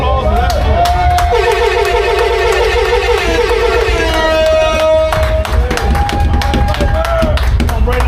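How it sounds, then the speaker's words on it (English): An audience claps through a round of applause for a performer at Iron Elite 2025, with a steady patter of hands over loud background music and voices. "round of applause for that, man. Round of applause for that."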